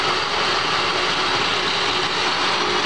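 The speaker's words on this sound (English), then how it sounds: "This is that Sheldon lathe." Sheldon EXL5628 tool room engine lathe with a 10-inch swing and 36 inches between centers, running under power feed with a steady, even mechanical hum and faint whirring that holds at a constant level throughout, no voices.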